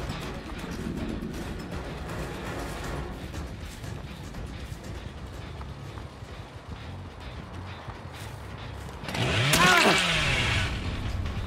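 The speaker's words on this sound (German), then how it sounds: "ich wollte eigentlich nicht die Kettensäge nehmen" The Cannibal's chainsaw in the horror game Dead by Daylight revs up loudly near the end, a raw buzzing roar rising out of a dense, noisy game soundscape.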